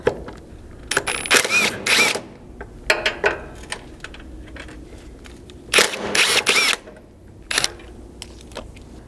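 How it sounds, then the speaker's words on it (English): A 12mm socket ratchet clicks in short bursts, removing the two fasteners holding a step mount to the body of a Lexus LX 570, with quiet gaps and handling noises between the ratcheting runs. "you can remove the two fasteners holding each step mount to the body using a 12mm socket"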